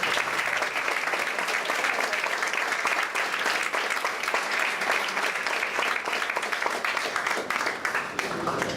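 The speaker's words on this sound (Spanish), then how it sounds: "Un aplauso para ellos, por favor." At a university conference, an audience applauds steadily and densely for the whole stretch, with many hands clapping at once at a loud, even level.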